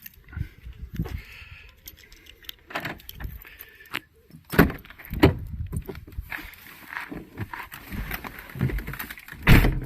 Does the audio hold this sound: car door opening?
yes